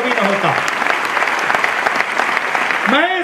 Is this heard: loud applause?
yes